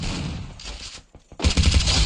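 Rapid bursts of gunfire from the battle royale game Free Fire, loud and close, with a dense volley, a brief lull near the middle, then another heavy burst of shots.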